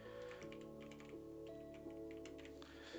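Computer keyboard keys tapped in quick, irregular clicks, close up but soft, over a steady layer of background game music.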